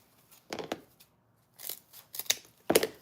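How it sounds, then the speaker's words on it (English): Scissors snipping the edge of wreath ribbon at an angle for a front door wreath, a few short crisp cuts in separate bursts, close and fairly loud with quiet gaps between. "On both sides, just line up the edge, cut it at an angle."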